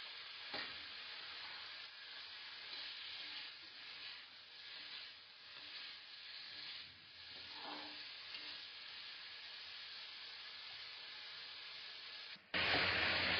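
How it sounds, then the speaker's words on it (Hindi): Paneer cubes fry in hot oil until golden brown, a continuous close sizzle with stirring scrapes that swells and eases, then cuts to a brief louder burst of hiss at the end. "इनको गोल्डन ब्राउन होने तक फ्राई करना है।"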